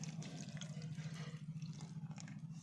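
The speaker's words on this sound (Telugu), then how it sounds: "చూడండి వాటర్ అయితే పోస్తుంది" Water pours in a steady, continuous splashing stream over a low background hum, with no voices.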